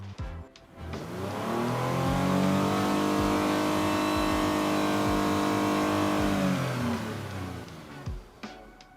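A 2020 Lexus RX engine revs up from idle to 6,000 RPM, holds a high, steady whine for several seconds, then drops back down; heard from outside behind the car, fairly near.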